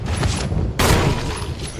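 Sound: gunshots in video game Resident Evil HD Remastered

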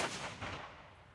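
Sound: ceremonial cannon shots at Memorial Day ceremony

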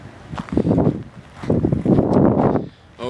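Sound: wind blowing on the microphone outdoors

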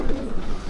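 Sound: young racing pigeons cooing

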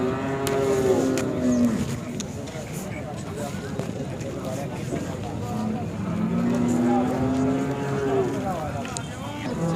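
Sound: Khillar cow mooing at a cattle market

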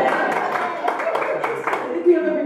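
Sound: audience cheering and clapping at a stand-up show

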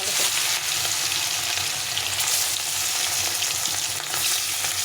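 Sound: fish frying in hot sunflower oil

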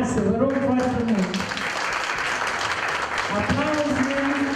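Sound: audience applause for class teachers

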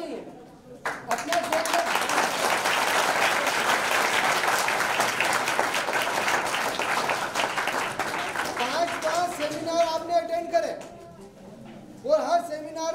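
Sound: seminar audience clapping

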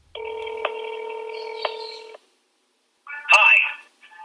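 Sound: telephone call dialing and ringing through to voicemail

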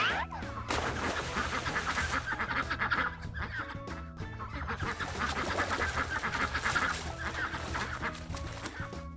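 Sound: ducks quacking

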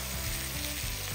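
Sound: vegetables frying in tomato paste and oil in a pot

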